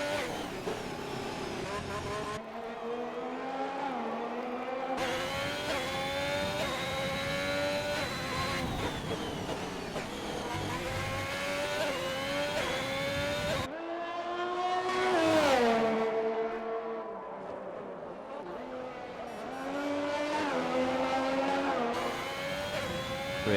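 In a racing video game, a race car screams at over 200 miles an hour down the back straight, its engine pitch climbing and shifting through gears in a sustained loud whine while a commentator talks over it.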